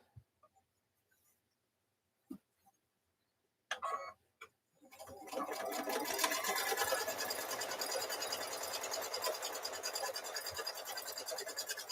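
A sewing machine stitching a quilt block starts up after a few scattered clicks and handling sounds, then runs as a steady, close, buzzing whir for the remaining several seconds.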